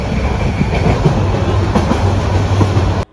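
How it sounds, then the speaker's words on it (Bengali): An express train pulling out of Kamalapur station in Dhaka at night, a steady loud rumble with rhythmic wheel clatter heard from on board, continuous until an abrupt stop. "ট্রেনটি ছেড়ে যাচ্ছে কমলাপুর স্টেশন থেকে"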